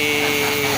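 A tanker's paint being scrubbed off, a loud, close, continuous rasping and grinding that holds steady for under a second.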